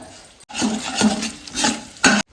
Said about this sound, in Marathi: एक बाउल खोबरं साधारण एक मिनिट मिक्स करायचं